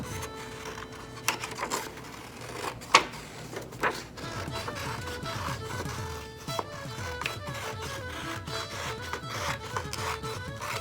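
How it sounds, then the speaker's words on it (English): Scissors snip through paper while a rainbow shape is cut out, giving a close, repeated rhythm of crisp rasping cuts and rustling, with occasional sharper clicks of the blades. "Now you're gonna get your scissors and cut it out."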